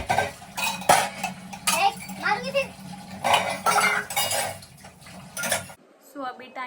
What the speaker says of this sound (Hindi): अभी मैं धोने लगी हूँ बर्तन